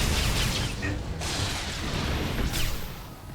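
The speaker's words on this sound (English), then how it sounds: "And here's the actual gravity cannon that Hammer Station has. It's actually launching asteroids." A gravity cannon fires asteroids in the Star Wars: The Old Republic video game at Hammer Station, a dense, loud rumbling roar with heavy booming bursts and a sharp thump near the start.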